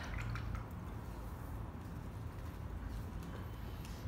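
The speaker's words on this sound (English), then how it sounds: "Okay, you can wash your brush out." A paintbrush being rinsed in a water container during acrylic painting, giving soft continuous watery swishing and dripping sounds, close and steady, with no talking.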